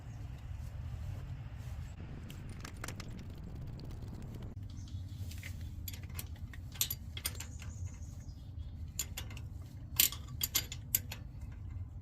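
Wrench tightening a bolt on a Chevy S10 differential during a Powertrax Lock-Right locker install: low background rumble, then a series of sharp metallic ratcheting clicks and clinks, close and fairly quiet.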